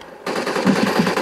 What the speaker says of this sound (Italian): No, Svidoga, hai sparato me, c'era il nemico dietro.